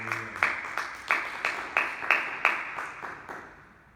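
A church congregation claps in praise, a short run of about ten roughly even, rhythmic unison claps that gradually fade toward the end.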